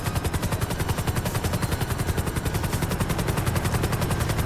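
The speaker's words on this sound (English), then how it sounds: "Where did that chopper just spawn from?" A helicopter in GTA Online gives a rapid, steady rotor chop that pulses evenly and loudly throughout, with no talking.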